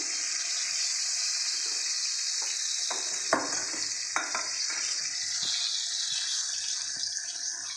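Bay leaf tempering in hot oil for Kashmiri-style rasgulla dum, giving a continuous bright sizzle with a few sharp clinks of stirring against the pan.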